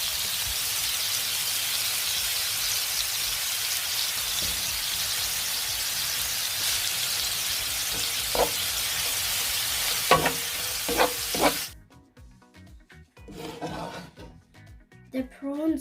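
Prawns frying in a pan for spicy Singapore prawn and chicken noodles, a loud steady hiss with stirring scrapes, then the sizzle suddenly drops to faint crackles near the end.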